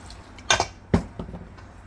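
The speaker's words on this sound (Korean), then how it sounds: "그런 다음에 물 조금만 넣을 거예요" Water poured into a bowl of flour, frying mix and pancake mix for a thick batter, giving two sharp splashy bursts followed by softer wet clinks, close and fairly loud with no talking.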